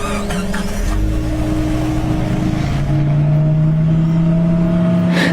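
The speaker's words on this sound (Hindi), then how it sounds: "और गाड़ी अपने आप स्टार्ट हो जाती है।" A car engine runs steadily and revs with a constant droning hum and shifting tonal whine, loud and close throughout as the vehicle pulls away and drives, with no voices over it.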